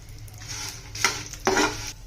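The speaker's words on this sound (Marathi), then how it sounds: "आता ह्याच्यामध्ये आपण 2 चमचे तेल टाकणार आहोत थोडा मसाला भाजण्यासाठी" Masala for sukkha chicken roasts in two spoons of oil in a pan, with a few short bursts of spoon stirring and scraping over a soft, steady sizzle and no talking.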